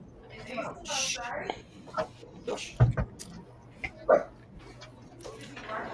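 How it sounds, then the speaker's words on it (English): A dog gives several short barks and yips, scattered among people talking nearby. "It's not Ace barking. That's Cernochs dog."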